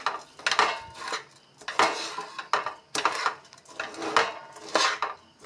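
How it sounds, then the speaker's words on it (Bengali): Flattened rice is worked into cooked jaggery in a pot, producing repeated scraping and clattering stirs in an uneven rhythm of strokes, close and moderately loud. "এই যে চিড়া গুড় পাকানো মিশিয়ে নিচ্ছি, আস্তে আস্তে ভালোভাবে মিশিয়ে নিচ্ছি"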